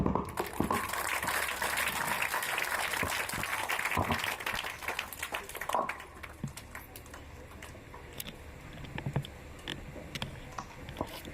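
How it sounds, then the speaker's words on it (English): Audience applause at a plastic recycling unit inauguration: dense clapping from a crowd, loud at first, then thinning and fading into scattered claps toward the end. "I want a big clap."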